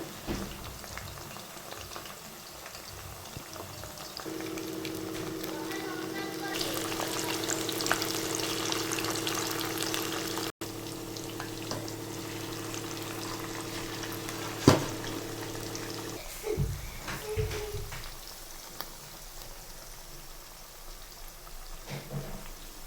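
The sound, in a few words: chicken pakoda deep frying in oil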